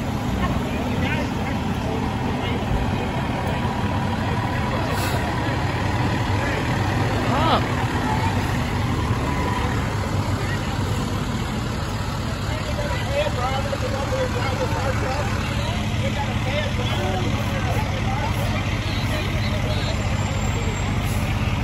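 A fire company engine idles at a street parade, its deep continuous rumble steady and close throughout, with people talking nearby over the running motor.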